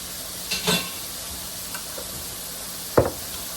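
A spoon stirs spiced dirty rice with bouillon in a pot: a few brief scraping strokes near the start and a sharper scrape near the end, over a soft steady sizzle, with no talking.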